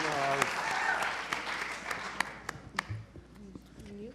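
Scattered audience clapping at a business pitch competition, sparse sharp claps over about four seconds as someone speaks and other voices murmur.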